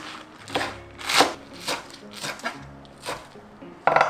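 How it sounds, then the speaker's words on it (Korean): A kitchen knife finely chopping scored radish for kimchi on a cutting board, a series of irregular crisp knocks and thuds, fairly close and moderately loud, with no talk over them. "이제 칼집 넣었어. 잘게 썰어줘야 돼요."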